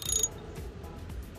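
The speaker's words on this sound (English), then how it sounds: "this is a left hand thread, so it will screw in counterclockwise" A left-hand-thread bicycle crank is screwed in, producing a short burst of faint mechanical ratcheting and clicking that fades into quiet metallic ticks.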